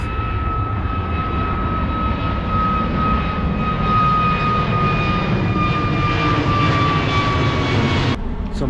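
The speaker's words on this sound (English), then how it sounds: "another plane taking off" A loud jet airplane roars steadily overhead, a continuous engine rumble with a high whine, cutting off abruptly near the end.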